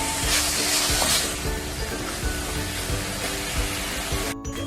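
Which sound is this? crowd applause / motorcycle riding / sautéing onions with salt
sautéing onions with salt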